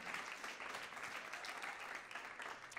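Steady applause from a crowd, a dense wash of clapping hands at moderate distance, continuous throughout.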